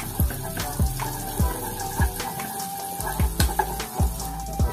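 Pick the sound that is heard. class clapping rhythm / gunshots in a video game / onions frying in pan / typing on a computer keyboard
onions frying in pan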